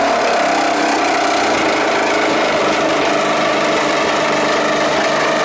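Jigsaw cutting through a car hood to open a vent hole on an FRS/BRZ, a continuous close, harsh buzzing rasp running steadily throughout without pause.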